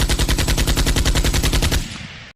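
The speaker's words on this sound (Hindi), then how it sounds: "विलियम ने स्टैन गन का मुंह खोल दिया" A Sten gun fires a rapid, loud burst of about fourteen evenly spaced shots for a comic-book audio drama, then cuts off, leaving a short fading tail.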